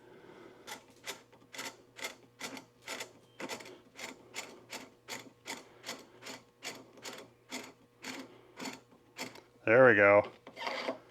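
A FN PS90 rifle barrel is unscrewed with a steady run of short, rhythmic rasping and ratcheting strokes, close and regular, followed by a brief spoken remark near the end.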